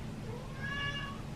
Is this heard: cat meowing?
yes